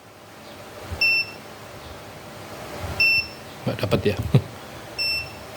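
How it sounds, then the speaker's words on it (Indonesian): Buzzer on a Rajawali Fold 7 FPV drone fitted with DJI O3 and ELRS, giving short high beeps about every two seconds. A brief burst of handling noise and a voice come between the beeps. "si buzzer nyalanya seperti ini Om."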